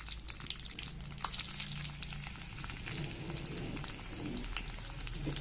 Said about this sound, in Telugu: అది మిరపకాయలు వేద్దాం ఇందులోనే.